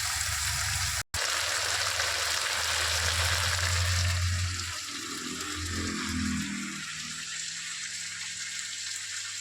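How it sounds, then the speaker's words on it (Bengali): Chicken kosha with potatoes sautéing in a pan gives a steady, close sizzle that softens slightly partway through, interrupted by one very brief cut near the start. "এই যে মাংস কষা হচ্ছে"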